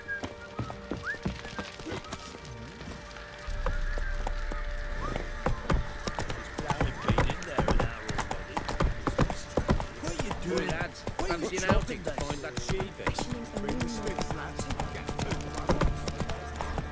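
Hooves of Roach, Geralt's horse in The Witcher 3, clip-clop steadily at a trot, close and continuous, with occasional snorts and game ambience underneath and a voice talking over parts of it.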